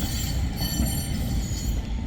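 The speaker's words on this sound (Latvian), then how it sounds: "Lūdzu, tramvajs." A tram running on rails: a loud, steady rolling rumble with metallic ringing and a thin wheel squeal above it, close by and continuous.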